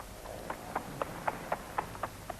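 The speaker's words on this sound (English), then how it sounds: "The horse and cart trots by and disappears into the distance." A horse pulling a cart trots along steadily, about four hoof clops a second, faint and soft against a hissy background with no voices.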